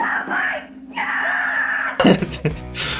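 A child screams loudly in two long, sustained bursts, followed by a brief clatter and some shouting.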